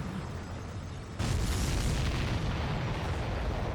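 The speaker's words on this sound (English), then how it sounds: "Did you see that explosion? Looks like that's one of them down." Supply ship blowing up in the air-combat game Ace Combat 7: a sudden loud broadband blast about a second in, followed by a sustained heavy roaring rumble.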